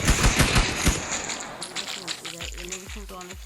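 Gunfire from a Minecraft PE guns mod, starting with a rapid burst of sharp, close shots, then scattered single shots and falling game sound effects, with a voice talking over parts of it.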